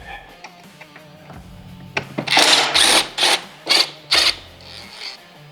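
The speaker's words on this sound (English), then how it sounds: "Then there's going to be 2 T25 screws up here we're going to pull out" A handheld powered screwdriver backing out T25 screws from the radio of a Harley-Davidson Street Glide, several short whirring bursts with brief pauses between them, close and fairly loud, after a quieter stretch of faint clicks and handling.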